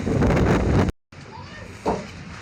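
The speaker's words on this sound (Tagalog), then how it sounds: "Ayan, lakas ng hangin at ulan." Loud, blustery wind and rain roar against the microphone, cut out briefly, then return as a steadier rushing of wind and rain.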